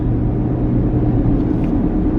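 A car that seems to be acting oddly and pulling while driving gives a loud, steady low rumble of engine and road noise, close and continuous with no talk.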